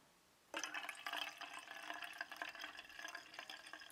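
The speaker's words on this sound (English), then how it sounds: "I'm just going to use tap water." Tap water pours steadily into a half cup of Dr. Bronner's liquid soap for homemade hand soap, a close splashing, filling stream that starts abruptly and continues without talk.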